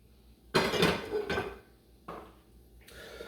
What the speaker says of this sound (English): Take the pan off the heat, and we're going to set that off to the side.